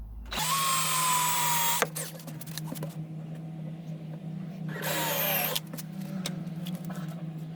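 A power drill drives a screw into the wooden frame of a homemade sandbox, with two loud whirring bursts near the start and middle, a steady low hum between them.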